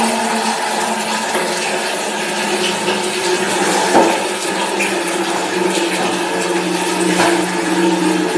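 Clothes being hand washed with water after a power cut, with a steady broadband splash and gush of water running throughout, fairly loud and close, with occasional sharper sloshes and no talking.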